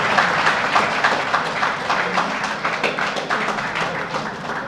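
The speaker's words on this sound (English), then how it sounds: "Can we have a round of applause?" A steady round of applause from a lecture audience at a memorial lecture, many hands clapping close and even for the whole stretch, no talking over it.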